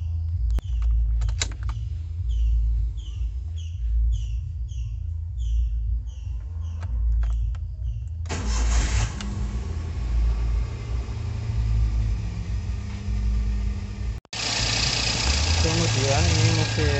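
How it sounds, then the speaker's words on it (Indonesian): A Xenia Li 1000 cc car engine cranks and catches, then settles into a steady low idle with a brief revving rise near the end; a voice speaks faintly early on. "langsung saja kita cek untuk menghidupkan mesin"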